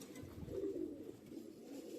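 Pigeons of a tournament-record breed with feathered feet, kept by a fancier, give a low soft cooing murmur that swells in the middle and then continues more quietly, with no talking.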